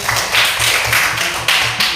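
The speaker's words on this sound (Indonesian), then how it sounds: "Nah, tepuk tangan untuk hari ini." A fourth-grade class in a classroom claps together in a steady, rhythmic pattern of loud, close, repeated bursts, with no talking over it.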